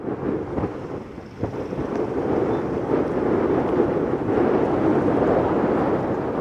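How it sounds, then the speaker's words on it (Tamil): Strong onshore wind buffets Pattinapakkam beach in Chennai during Cyclone Fengal, a steady broadband roar that swells and holds loud throughout with gusty rumbling, no voices present. "சென்னை பட்டினப்பாக்கம் கடற்கரையில் தரைக்காற்று பலமாக வீசி வருகிறது"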